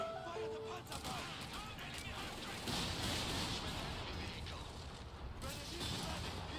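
Panzer bomb barrage in the Company of Heroes battle game, a dense rumbling wash of artillery blasts and gunfire rolling on steadily throughout, with voices calling out faintly beneath the din.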